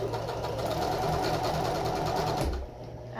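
A sewing machine stitches folded fabric in one close, steady run of rapid mechanical chatter that slows and stops near the end.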